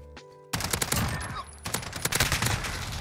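A short gunfight in Call of Duty: Modern Warfare erupts suddenly after a quiet game tone, with dense, loud, close automatic fire and a brief pause before a second volley.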